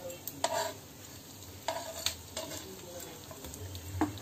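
Brinjal slices frying on a flat iron tawa for a masala tawa fry, a soft, fairly quiet sizzle broken by several sharp scraping and tapping sounds from a spatula.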